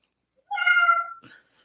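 A single kitten meows once, close and clear, a short rising-falling cry followed by a faint brief rustle, with silence around it.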